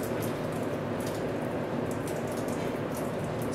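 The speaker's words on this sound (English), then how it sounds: "It's wet. It's the soft drizzle." Soft drizzle falling on an early wet morning in Skagway, a steady, faint hiss of fine rain with scattered light patters throughout, no voices.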